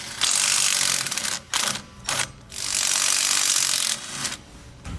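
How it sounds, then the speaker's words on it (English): A ratchet with a 9/16 socket spins off axle nuts on a 2009 Carriage Cameo fifth-wheel trailer, giving loud, dense rapid clicking in several long bursts broken by short pauses. "Now we're gonna use our 9/16 socket to remove all the nuts."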